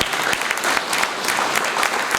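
An audience at an honouring ceremony breaks into steady, sustained applause to welcome the chairman, a dense patter of many hands clapping close by.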